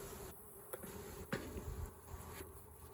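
Honey bees buzz around a hive in a soft, continuous drone, faint and steady, with a few small knocks and rustles nearby.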